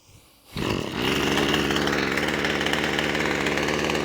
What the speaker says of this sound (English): So let's turn it on, let's choke it, let's give it some primes.